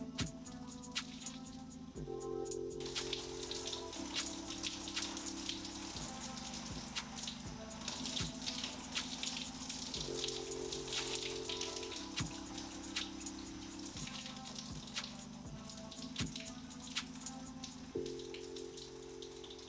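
Water runs and spatters steadily while shampoo is rinsed out of natural hair, a continuous close splashing hiss under soft background music, with no voices.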